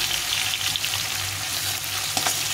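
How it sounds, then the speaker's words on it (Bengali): Hilsa fish shallow-fries in oil in a pan and gets turned over, producing a steady, close frying hiss with a low rumble under it and no talk. "দিয়ে মাছটা একটু ভেজে উঠে নেব, শুধু উলট পালট করে উঠে নেব"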